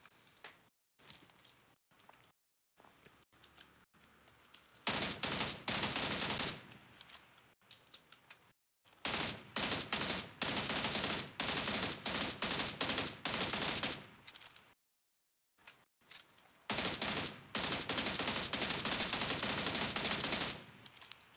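Gunfire in the video game PUBG Lite, with sharp single shots at first, then long bursts of rapid automatic fire separated by short silent gaps, loud and close.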